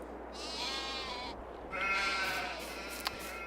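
Hungry sheep in a farming video game bleat repeatedly. Several wavering cries overlap and sit fairly close over a steady background hum, with no talking.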